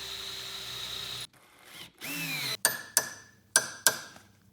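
A power drill drives screws to fix a new base bracket to the leg of a height-adjustable computer arm, with a rising whir and several short, sharp bursts near the end.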